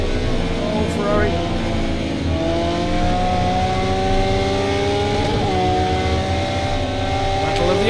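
A Ferrari race car engine in a racing video game accelerates and shifts through gears, its tone climbing and stepping steadily, loud and close, with a commentator talking over it.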